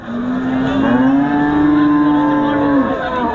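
At the Hazratpur cattle market, a cow lets out one long, loud, close moo lasting about three seconds, rising slightly and then dropping off, with faint market background around it.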